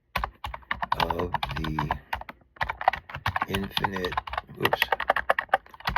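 Rapid, uneven clatter of typing on a computer keyboard, with a person talking over it almost throughout.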